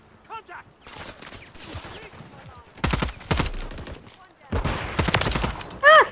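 Automated sentry gun in the Call of Duty: Modern Warfare 3 video game firing in loud, rapid bursts of gunfire that come in several volleys, with people talking over and between them.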